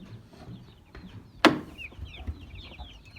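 Young Herati chickens in a coop, clucking and peeping in quick chirpy calls, with one sharp knock partway through.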